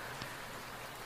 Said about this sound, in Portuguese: está chovendo lá fora tão forte